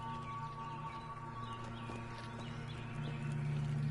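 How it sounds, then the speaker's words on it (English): Winged horses in the Hogwarts Legacy video game, heard as a steady clip-clop of hooves over a continuous droning game-world ambience with a sustained low tone, moderately loud and without talk. "These horses with wings."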